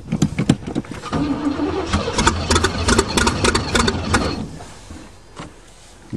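A Chevrolet engine on a farm cranks over cold with the choke on, catching after a few seconds into a rough, loud, uneven run that then fades and drops off near the end.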